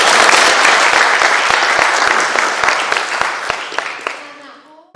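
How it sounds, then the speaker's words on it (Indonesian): Audience applause fills a school skills competition event in South Jakarta, a dense sustained clapping from a large crowd that fades out toward the end. "Tepuk tangan."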